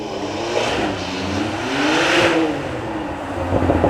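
A Porsche 911 Turbo S accelerates hard at a supercar event, its engine note rising and sweeping upward as revs climb, loud and close, with a steady roar and a final surge near the end.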